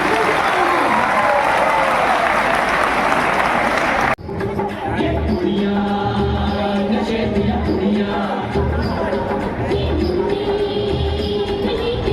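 Loud audience applause fills a hall at a school quiz in Chhindwara, dense and close for about four seconds before cutting off abruptly, leaving quieter room sounds and faint voices.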